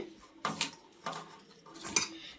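A spoon stirs and scrapes ingredients in a bowl while a jowar flour batter is prepared, giving three distinct clinking strokes against the bowl, close and moderately quiet.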